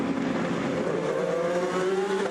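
A race car at the 2020 24 Hours of Le Mans roars down the pit straight, its engine a steady, loud drone whose pitch climbs as it passes. No voices are heard.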